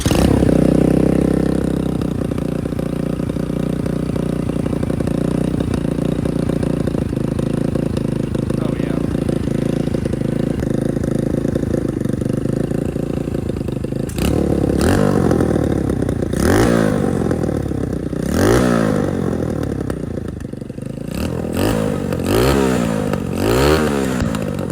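A Chinese dirt bike engine runs loud and close with a steady idle, then gets blipped and revved several times, with sharp pops and backfires breaking through the rising and falling pitch.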